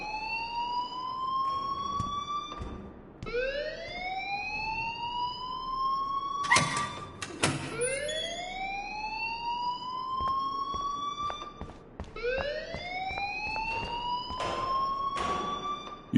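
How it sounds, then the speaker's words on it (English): A loud electronic alarm in the video game Life Is Strange, repeating rising siren-like sweeps about every three seconds, with no talk over it. "please turn off that alarm since that's your job"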